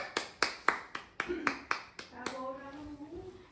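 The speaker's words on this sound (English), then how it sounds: "Okay, round of applause for group 4." A class claps in a run of sharp, evenly spaced claps that soon give way to a voice talking, fairly quiet and close.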